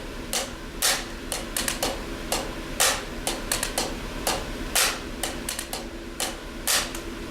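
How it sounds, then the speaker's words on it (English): Crisp percussive taps in a quick rhythm, loud accented hits mixed with soft paired strokes between them, played close and alone. "play your accented hit and then a double tap ghost note before your next downbeat"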